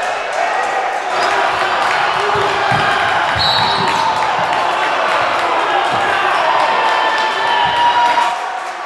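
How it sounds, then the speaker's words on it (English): A crowd cheers a dunk at a high school basketball game, Moravian Prep against Washington, a sustained, loud roar with ball bounces and court thuds scattered through it and some talk underneath. "You can hear the cheers of the crowd. They love it."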